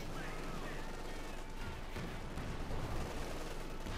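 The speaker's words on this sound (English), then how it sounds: "And still the light machine guns." Light machine gun fire rattles across a Company of Heroes 2 battlefield, distant bursts blended into a dense, steady wash of combat noise.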